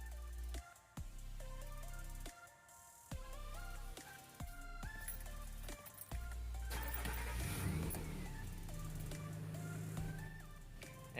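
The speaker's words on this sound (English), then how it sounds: "clear the code and start it back up" A Nissan Pathfinder engine starts after an air fuel ratio sensor repair: a brief cranking burst, then the engine catches and settles into a mid-pitched running hum, quiet and close.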